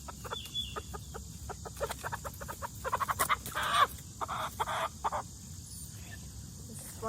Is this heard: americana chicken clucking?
yes